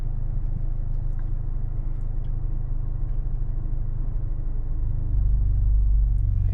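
A 2018 Honda Civic Type R pulls away slowly on the clutch from inside the cabin, its engine a low steady rumble that swells slightly toward the end.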